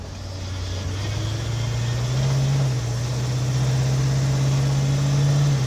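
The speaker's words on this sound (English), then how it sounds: "I love the idle. It's got like that rumble, you can feel it." A 1947 Chevrolet Fleetline engine idles with a deep, steady rumble, close and continuous with a slight rise in pitch partway through, no voices heard.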